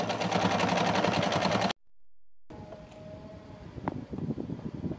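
Sewing machine running steadily as it stitches the double-turned edges of a fitted sheet, a loud continuous whir that stops abruptly, followed by quieter handling noises and a faint hum.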